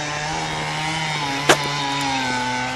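A chainsaw drones steadily at a distance during tornado cleanup, its high buzzing whine continuous throughout, with a brief sharp crack partway through.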